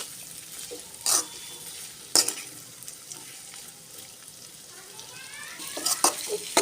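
Chicken pieces stirred in a sizzling pan, with a few sharp scrapes and clanks of the spoon over a low frying hiss, close by.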